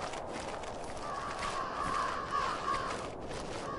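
Crow-like caws from a bird in a video game where the player is a fox in a forest, a few faint repeated calls over soft ambient background and light footstep-like rustle.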